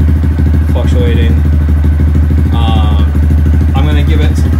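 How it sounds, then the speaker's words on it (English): A 2018 Honda Grom motorcycle engine idles with no throttle, a loud, steady, rapid low putter throughout, with someone speaking over it. "So that right there is just idling. I'm not using the throttle at all."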